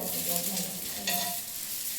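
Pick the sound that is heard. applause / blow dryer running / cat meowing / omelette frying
omelette frying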